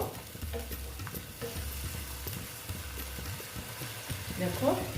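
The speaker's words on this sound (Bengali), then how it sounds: "ধুয়ে ভালো মতন একটু নেড়ে চেড়ে নিচ্ছি একটু কষিয়ে নেবো" Potol filling with cashews is stirred and sautéed in a pan, a steady close sizzle broken by soft repeated scraping strokes.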